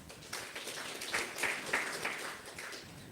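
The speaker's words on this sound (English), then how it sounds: "Let's clap for him." Seminar audience at a sustainability event claps, a moderate burst of applause with some distinct individual claps standing out, fairly even and somewhat distant throughout.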